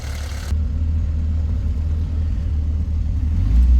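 1968 Fiat 850 Spider four-speed roadster engine running, a steady low rumbling idle close by that swells slightly near the end, with no talking.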